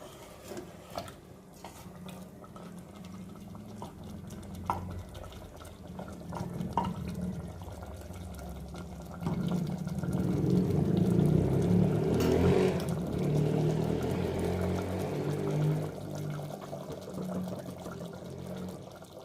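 Water poured into a pot of mutton curry, a steady liquid rush building louder midway and then gurgling on, with faint kitchen clatter around it and no voices.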